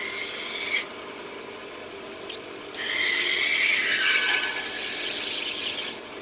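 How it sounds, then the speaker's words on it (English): A knife blade rasps against the belt of an old woodworking sander in a short stroke, then again in a longer sustained grind of several seconds, loud and close with a steady scraping hiss. "This is an old woodworking sander, so it's not really suited for getting in here."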